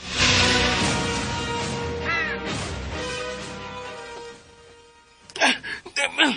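A crow caws repeatedly in a rural farm setting, harsh calls close and fairly loud, with people talking and shouting over and around them; a burst of clattering sounds near the end.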